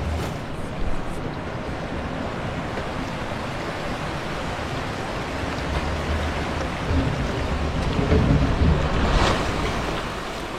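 Log flume ride in a video game: a steady, loud wash of rushing, splashing water with a surf-like roar throughout, swelling slightly near the end, with no talking.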